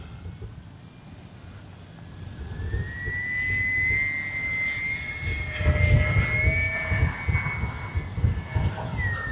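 RC P-51 Mustang model airplane making a fast pass into the wind on an overcast day, its engine whine rising in pitch and growing louder as it approaches, over steady wind noise.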